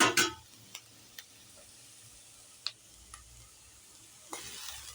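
Vegetables and eggs are stir-fried for egg fried rice, with faint sizzling and a few sharp spatula scrapes and taps on the pan, quiet and intermittent, no talking.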